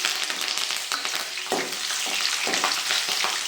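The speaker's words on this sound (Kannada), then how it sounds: "ನೀಟಾಗಿ ಫ್ರೈ ಮಾಡ್ಕೋಬೇಕು" Green chilies and curry leaves sizzle steadily in hot oil in a pan, a loud, continuous crackle with occasional stirring scrapes and no talking.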